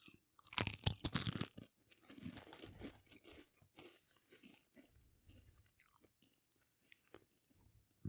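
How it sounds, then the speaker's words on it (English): Close, loud crunching bites into a spicy snack flavored with soy sauce, yeast extract and fish powder, a burst of crisp crackles followed by softer chewing that fades into scattered small crunches. "let's get a crunch in the mic here."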